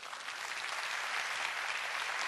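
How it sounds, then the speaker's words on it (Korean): Audience applause at a Korean talk-show style lecture, a steady dense wash of many hands clapping, sustained and even throughout with no voices over it. "박수 안 치시나요?"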